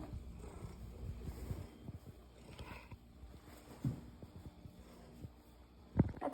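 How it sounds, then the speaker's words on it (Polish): A pet cat purrs up close in a quiet kitchen, a soft low rumbling with irregular pulses and occasional brief thumps, no talking. "To jest mój pan kotek. O, wita się z wami."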